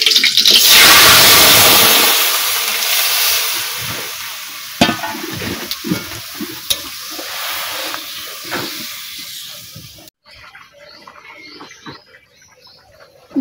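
Boiled dal goes into hot oil tempered with whole cumin, dried chilli and bay leaf, giving a loud burst of sizzling and frying that settles into bubbling and stirring before cutting off.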